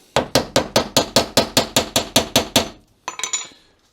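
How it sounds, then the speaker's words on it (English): A hammer taps a six-sided socket during a front-end strip-down: about a dozen evenly spaced, loud metallic strikes, then a quicker cluster of lighter taps before it stops. "I'm using a 6-sided socket to hopefully make it a bit easier, and a little tappy tap tap."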